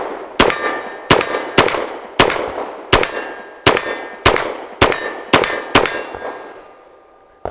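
Caracal Enhanced F pistol shots ringing off steel targets at distance, ten sharp metallic clangs at a steady, slightly quickening pace, each with a decaying ring.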